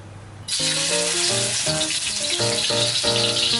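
Minced pork hits hot oil with a sudden loud sizzle that continues steadily and close, while a melody plays underneath.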